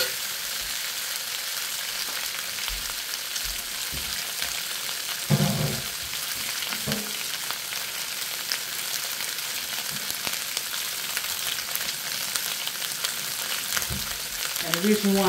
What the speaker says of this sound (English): And the reason why you stir frying it is because you want all the ingredients to be evenly cooked.